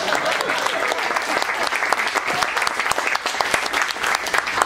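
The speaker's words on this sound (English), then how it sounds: "Ladies, clap it up for yourselves one more time." A women's audience at a comedy writing seminar claps enthusiastically, dense, fairly loud applause filling the room, with faint voices mixed in.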